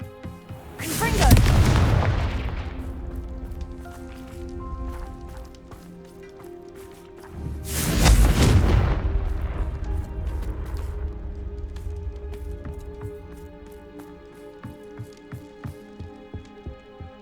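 Confringo fire-blast spells exploding in Hogwarts Legacy, two big booming blasts several seconds apart, each with a sharp crack and a long rumbling decay, followed by smaller scattered impacts and pops.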